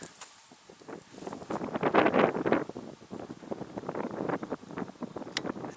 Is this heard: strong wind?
yes